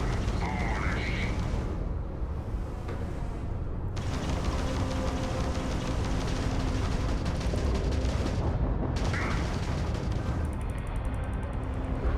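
An enemy ship blows apart during space combat in Starfield, with dense, continuous booming blasts and weapon fire rolling throughout, punctuated by short gaps.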